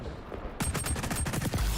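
XDefiant video game gunfire: rapid bursts of automatic shots start abruptly after a brief quiet lead-in, loud and close, with sharp repeated cracks and a heavier thump at the end.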